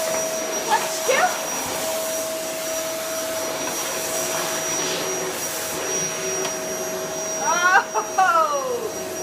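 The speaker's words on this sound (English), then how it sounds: "she doesn't like the vacuum cleaner" A vacuum cleaner runs with a steady high whine inside a home while a nervous dog lets out several short, high-pitched whimpers and yelps, mostly near the end.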